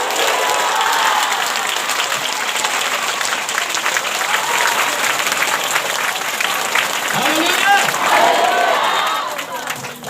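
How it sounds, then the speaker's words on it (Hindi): A church congregation claps together in sustained, loud applause with scattered cheering, filling the room for about ten seconds before tapering off. "ताली बजाओ, बोलो हालेलुया"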